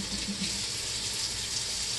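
Tap water running steadily into a nearly empty Young Living dish soap bottle, a continuous close gushing stream that stays level from start to finish.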